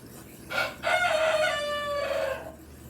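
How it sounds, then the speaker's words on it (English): A rooster on a homestead crows once, close and loud, in a long drawn-out call over quiet background. "And of course we have our noisy roosters."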